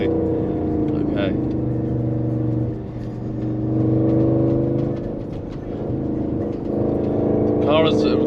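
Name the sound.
Audi RS6 Stage 2 750HP with Milltek exhaust driving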